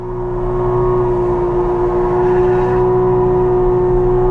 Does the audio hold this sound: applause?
no